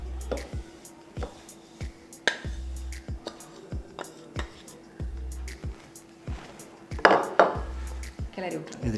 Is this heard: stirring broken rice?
yes